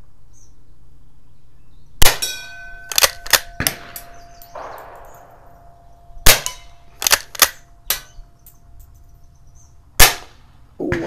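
Winchester Model 1890 rifle firing .22 short rounds at metal targets, with sharp, loud cracks spaced irregularly, several followed by a ringing clang or ding from the struck steel.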